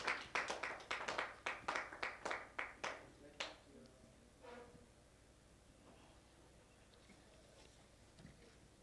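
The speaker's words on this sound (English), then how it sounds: "Please let's clap for them as they come." A small conference audience at a women's leadership event claps for honourees, about a dozen sharp, evenly spaced claps in the opening seconds that thin out and stop, leaving quiet room tone with faint stray sounds.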